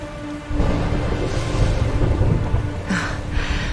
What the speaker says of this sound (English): Would you look at it thundering away out there?